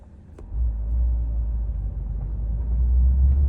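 A Mercedes CLA 250e AMG Line moves off and drives smoothly, its soft, steady low rumble rising after a quiet start and staying fairly faint throughout.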